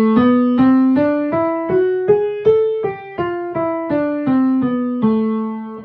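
A melodic minor scale in A played on a pitched instrument, fifteen separate clear notes stepping up and then back down, each struck and left to ring briefly, alone and close with no talking.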